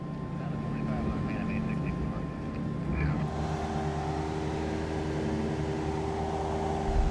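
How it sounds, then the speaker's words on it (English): Fixed-wing airliner crossing the runway threshold on final approach, with a steady engine drone and rushing airflow that shifts in tone partway through, continuous and fairly close throughout. "Now as we come over the threshold of the runway, we straighten the aircraft out."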